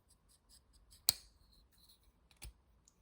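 A sharp metallic click from the action of a Reate Iron-X carbon fiber folding knife, followed by a softer second click a moment later, against quiet background.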